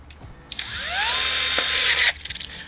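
A cordless drill drives a power planter auger at slow speed: a short whirring spin-up and steady motor whine lasting about a second and a half, then an abrupt stop, with a few clicks before and after.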